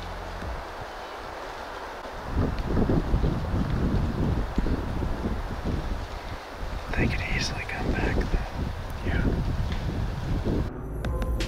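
Gusty wind blows and swirls outdoors at a Louisiana hog-hunting spot, a rough broadband rumble with heavy microphone buffeting that strengthens after a couple of seconds, with faint higher chirps near the end.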